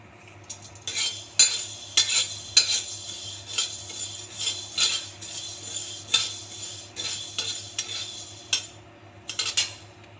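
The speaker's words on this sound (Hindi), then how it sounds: "अब हम इसमें मेथी भूनेंगे।" Fenugreek seeds dry-roasting in a pan, stirred with a utensil that scrapes and clinks against the metal in an uneven rhythm, fairly close and moderately quiet, with no talking.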